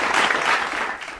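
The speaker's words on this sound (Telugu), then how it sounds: "బిగ్గరగా చప్పట్లు కొడదాం." A church congregation breaks into loud, dense applause, a continuous wash of many hands clapping together close by.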